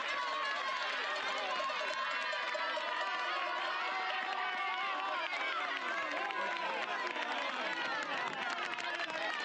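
A crowd lining the Zegama-Aizkorri mountain race course cheers and shouts steadily for passing runners, a dense continuous roar of voices with a commentator talking over it.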